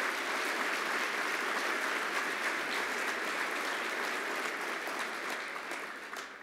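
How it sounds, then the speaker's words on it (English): A housing conference audience gives sustained applause for Alicia Glenn during the mayor's remarks, a dense, even roar of clapping in a large room that fades slightly at the end. "I need you to give a rousing round of applause for Alicia Glenn for all she does"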